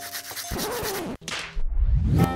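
Rough scraping of a tool meant for sawing through jail bars, a burst of rasping strokes followed after a brief pause by a louder, heavier grinding rub, close and alone.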